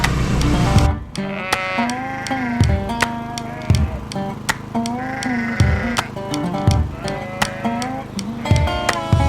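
Several sheep bleat loudly and repeatedly on a ranch on shearing day, their calls overlapping nearby, with sharp knocks and rustling mixed in.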